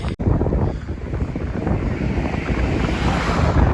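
Strong wind in Aruba roars steadily into the microphone, with a broad rushing rumble and no voices throughout.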